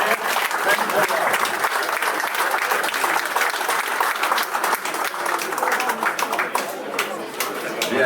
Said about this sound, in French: je vais vous demander un tonnerre d'applaudissements